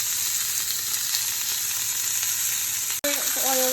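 Steaks frying in a pan give a loud, steady hiss and crackle of sizzling fat that runs throughout, with a brief break near the end and a faint tonal clink after it.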